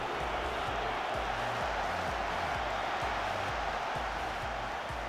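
Simulated stadium crowd in the football video game Football Manager 2017 applauds a substituted player leaving the pitch, a continuous even wash of clapping and crowd noise with steady low rhythmic thuds running throughout.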